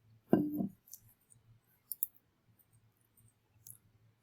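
A computer mouse clicks a few times inside a quiet room, with one brief double click near the start and a couple of faint, sharp clicks later over a low steady hum.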